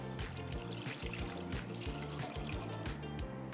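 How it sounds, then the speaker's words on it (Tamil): Water pours steadily into a cooking pot for boiling plain noodles, a continuous close trickling stream with a gently rippling, bubbling texture and no voices. "ஃபஸ்ட் கொஞ்சம் தண்ணி ஊற்றிக்குவோம்."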